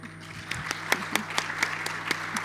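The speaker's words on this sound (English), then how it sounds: "I think we deserve a clap" A small audience at a talk on African airlines gives a sparse round of clapping, about eight distinct handclaps spaced irregularly over a quiet room hum.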